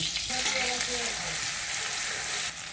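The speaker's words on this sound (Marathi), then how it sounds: "आता हे चांगलं तेलामध्ये फ्राय करतो बघा" Garlic, ginger, coriander and coconut fry in hot oil with a steady, close, loud sizzle throughout, ending with a brief clatter of stirring.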